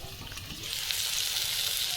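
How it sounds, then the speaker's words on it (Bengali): Potatoes frying in a wok until reddened, a dense close sizzle that grows slightly louder and brighter partway through, with no voices. "এই দেখো আলুটা কিন্তু লাল লাল করে ভেজে নেওয়া হয়ে গেছে।"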